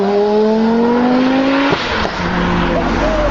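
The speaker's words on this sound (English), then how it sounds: "most well known for, is their impeccable 5-cylinder engines" Loud Audi five-cylinder engine revving hard, pitch climbing steadily then dropping sharply at a gear change before rising again, close and continuous.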